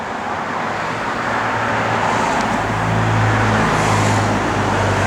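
A restored Chrysler with bucket seats, console and factory dash drives along the road, giving a steady, continuous engine and road rumble with a low drone that swells slightly toward the end.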